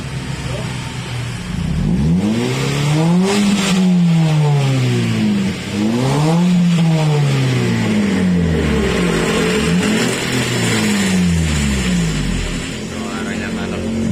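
Toyota Calya engine revved hard through an aftermarket racing exhaust, several loud rising-and-falling blips in a steady rhythm, close by, with voices talking over it.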